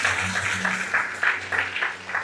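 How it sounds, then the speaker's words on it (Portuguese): A church congregation claps together in a quick, steady, continuous patter, moderately loud, with a low sustained musical tone beneath it. "Aplauda o nome de Jesus bem forte."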